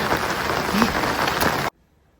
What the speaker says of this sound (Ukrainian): Басейн і чан під дощем, під сильним дощем.